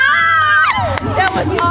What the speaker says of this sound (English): we've got girls screaming out there